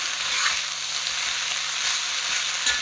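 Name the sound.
kale stir-frying in a wok on high heat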